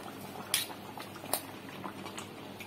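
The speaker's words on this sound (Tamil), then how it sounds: "குழம்பு நல்லா திக்காக கொதிச்சிருச்சு." Thick moong dal kulambu simmering in a pot, with soft continuous bubbling and a couple of sharper pops and spatters, close and fairly quiet with no talking.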